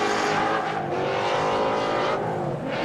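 BMW 318 drift car in practice at a drift event, its engine roaring loud and steady at high revs with continuous tire noise, holding near-constant intensity with slight dips throughout.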